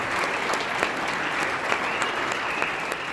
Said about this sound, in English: let's have a nice round of applause for Steve and Jake and Allie and their wonderful toast to Abby and Dan.